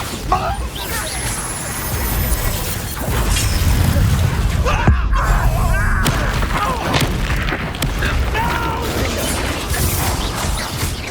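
A Bombarda explosion spell is cast in the video game Hogwarts Legacy, bursting out as a sudden blast midway through a busy stretch of combat effects, rumble and game voices.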